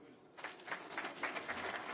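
An audience at a bell-ringing launch event at the Nairobi Securities Exchange breaks into applause after a speech, the clapping starting abruptly and continuing steadily at a moderate distance.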